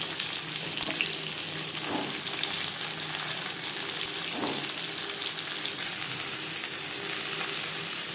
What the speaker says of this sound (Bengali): 15-20 সেকেন্ড জিরে ভেজে নেওয়ার পর দিয়ে দেবো পটল।